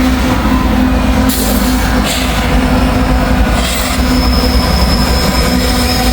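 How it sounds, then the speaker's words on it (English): A fast freight train with double DPU locomotives rushes past close by, a loud, continuous roar of rolling wheels and rattling cars with faint squeals. "Another double DPU coming through"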